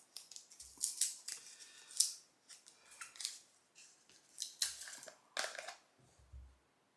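A sealed shaving product package is torn and crinkled open in a series of short, crisp rips and rustles with brief pauses between them. The sounds are close and fairly quiet.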